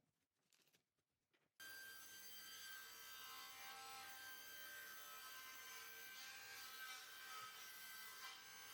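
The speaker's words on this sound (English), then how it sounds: "It was just a lot of cutting of strips and then creating the notches to interlock them with each other." Wooden strips being cut and notched for a miniature house in a garden build, a steady continuous rasping saw-like scrape running unbroken for several seconds after a brief quiet start, close and moderately loud.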